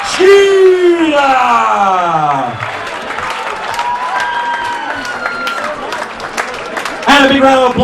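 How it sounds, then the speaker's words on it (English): Crowd applause and cheering break out after a WKBF Australian title kickboxing bout ends in a TKO, loud and sustained throughout with high whistles and shouts rising above the clapping. "And a big round of applause to the Chin Machine, Aaron Cheney."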